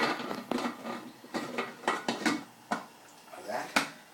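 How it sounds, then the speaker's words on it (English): A metal pressure cooker lid gets fitted and closed over chicken curry, producing a series of sharp clanks and clatters in uneven rhythm, close and moderately loud, with short pauses between knocks. "now it's all mixed well, you're going to close the pressure cooker"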